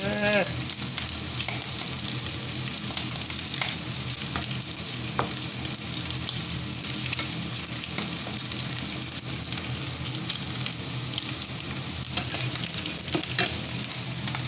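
Food is stir-fried in a hot pan, with a loud, continuous sizzle and frequent scraping, clattering stirs of a utensil against the pan, close up and sustained.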